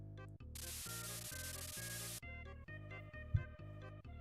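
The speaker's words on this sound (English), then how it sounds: "I did not expect it to spray that fast." Spray can tool in the Mario Paint video game, a hissing burst of spray noise for about a second and a half, layered over the game's looping chiptune background music.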